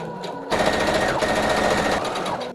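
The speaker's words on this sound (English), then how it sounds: "Now let's sew this bottom hem up." A sewing machine stitches the bottom hem of a circle skirt, a rapid, even, close mechanical chatter that starts slowly and runs continuously once it gets up to speed.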